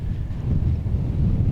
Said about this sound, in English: It's windy. It's windy.